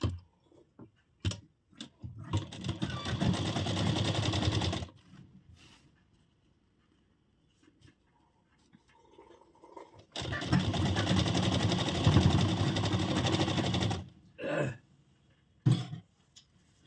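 A sewing machine stitches a blouse in two long bursts of steady mechanical whirring, close and fairly loud, with short clicks and handling noises in the pauses between runs.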